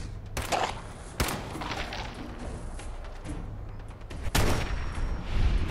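Gunshots ring out at an enemy's body in Fallout 4, a few sharp, loud cracks spaced a second or more apart over a busy, rumbling game background.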